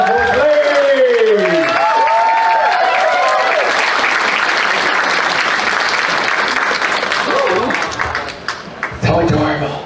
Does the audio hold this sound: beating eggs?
no